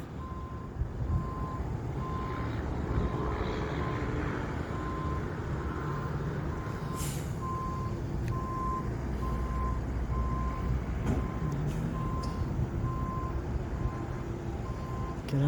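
Tow truck backing up near a dealership, its reversing alarm beeping steadily in an even rhythm over a loud diesel engine rumble, with sharp hisses of air brakes in the middle.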